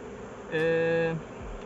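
A steady buzzing drone of honeybees with a clear pitch lasts just over half a second, then fades back into quiet background hum.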